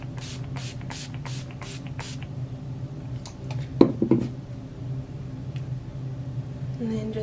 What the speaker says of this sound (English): I'm going to spray 5 to 10 pumps